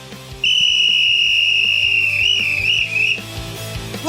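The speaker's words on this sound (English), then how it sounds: "The whistle you're about to hear is from a Dallas Cowboys fan excited to talk about his team." A Dallas Cowboys fan blows a loud, shrill whistle close up, holding one long steady tone for about three seconds with a slight wavering pitch near the end before it cuts off.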